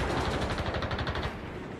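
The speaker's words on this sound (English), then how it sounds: "we come under heavy machine gun and mortar fire." Dense, rapid bursts of World War II machine gun and mortar fire on a beach landing crackle continuously at high volume, a relentless rattle of automatic weapons with heavy thuds mixed in, no voices.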